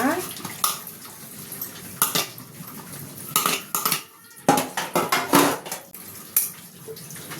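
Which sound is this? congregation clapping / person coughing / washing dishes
washing dishes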